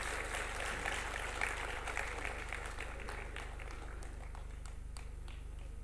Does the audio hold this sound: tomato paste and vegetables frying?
no